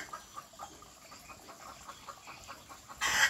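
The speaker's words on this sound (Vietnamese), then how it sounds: "gà trống nó đang canh trứng đó." A rooster jungle fowl guarding eggs in an aviary gives faint, soft repeated clucks from some distance, ending in a short louder burst.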